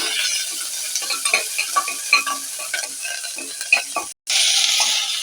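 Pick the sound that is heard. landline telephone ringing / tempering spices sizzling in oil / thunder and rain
tempering spices sizzling in oil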